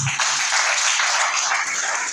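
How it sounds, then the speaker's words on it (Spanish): Congregation applause during a church service in Tunja, a short burst of dense, steady clapping from many hands that fills the room at even loudness for about two seconds. "Dele ese aplauso al Señor."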